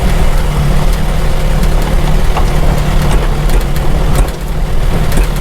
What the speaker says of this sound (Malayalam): എൻജിൻ ബ്രേക്കിലാണ് ഇപ്പോൾ ഇറങ്ങിപ്പോകുന്ന വണ്ടി.